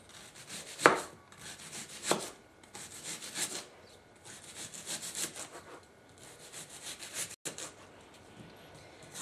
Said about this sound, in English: I'm going to do some chopping of some onions here.